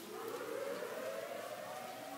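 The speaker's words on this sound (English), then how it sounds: "Tornado sirens." Tornado sirens wail from a distance during a rainstorm, a steady droning tone that rises slowly and blends with the wash of rain.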